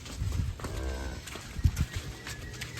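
Cattle on a farm low and shuffle, with a single drawn-out moo amid thuds and movement close by, at moderate loudness and with no speech.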